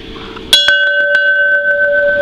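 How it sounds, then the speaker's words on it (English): A dinner bell made from a huge chunk of steel oil pipe is struck once hard, giving a loud, pure ringing tone that sustains steadily, with a few lighter taps rattling over the drawn-out hum. "That's a dinner bell that Nell gave us, which is made out of a huge chunk of steel oil pipe."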